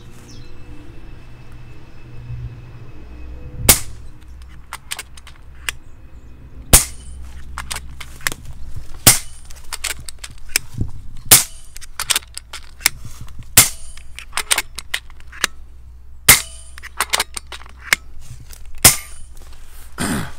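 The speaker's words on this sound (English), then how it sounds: "So let's see a few shots go." An FX Dreamline Classic Synthetic PCP air rifle fires a rapid series of sharp, snappy shots, each a crisp crack over quiet background. They come irregularly but quickly, with faint mechanical clicks of cycling between some of them.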